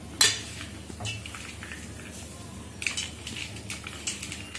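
Sabudana vada mixture squished and mixed by hand in a bowl, with soft irregular squelches and occasional clinks of the bowl, close and moderately loud.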